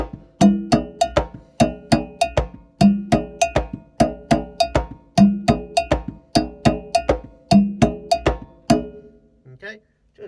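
Percussion groove played on congas and cowbell, a steady four-beat pattern of crisp, loud cowbell strikes over regular conga hits, repeating evenly for about nine seconds before stopping.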